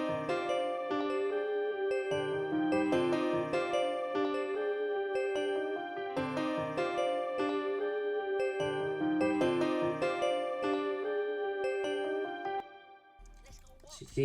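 A dark plugg melody played on a dark FL Keys piano preset with delay and reverb, repeating a looping phrase of echoing, ringing notes for about twelve seconds before cutting off into a brief noisy tail.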